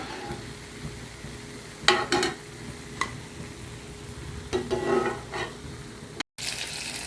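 Punugulu, fritters made from leftover dosa batter, fry in hot oil with a low steady sizzle, broken by a few sharper clinks and scrapes as they are turned and lifted out; no one speaks.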